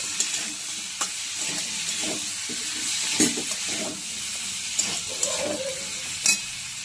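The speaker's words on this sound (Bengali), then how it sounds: "এবার ভালো করে এটাও আমি মিশিয়ে নিচ্ছি।" Tender ridge gourd with some skin left on is stirred in a hot frying pan, a continuous sizzle with scraping and clinking strokes of the spoon, close and without talk.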